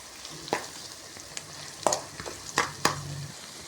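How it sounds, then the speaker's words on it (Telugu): Chopped onions and green chilies fry in a pan under a soft, faint sizzle, with a few distinct scrapes and taps as they are stirred. "ఇప్పుడు ఆనియన్స్, పచ్చిమిర్చి వీటిని కొంచెం దోరగా వేయించుకోవాలి"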